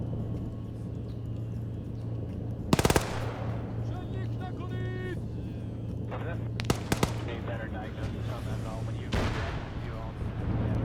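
In a Marines military shooter game, an anti-tank weapon fires at a vehicle, loud sharp blasts amid scattered gunfire and a steady mechanical drone, while voices talk over team radio.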